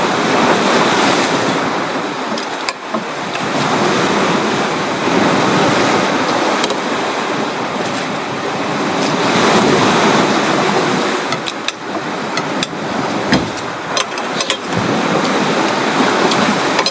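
Ocean waves wash steadily onto a seashore, a continuous loud roar of surf with rolling swells and gusty wind buffeting the microphone throughout, no voices present.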